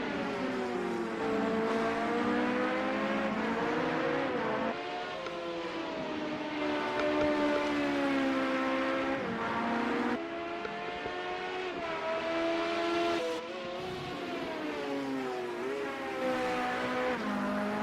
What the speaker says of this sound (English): Nice crackle as he shifts there, heading up the hill.